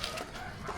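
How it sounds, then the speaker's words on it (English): Chickens cluck and crow in a busy Vietnamese street market, a faint but continuous poultry chatter with brief squawks and no speech over it. "There's chickens."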